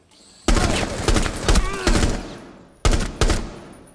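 Gunfire in the tactical shooter Rainbow Six Siege: several short, sharp bursts of automatic fire with gaps between them, loud and close, while a voice talks over it.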